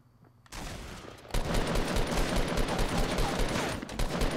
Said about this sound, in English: Don't run into my shots, Ben.